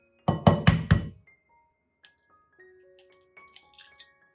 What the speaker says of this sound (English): prepare a few eggs and crack them one by one into a large bowl